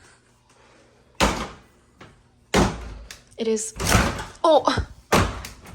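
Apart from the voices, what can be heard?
apartment door being closed, hard to shut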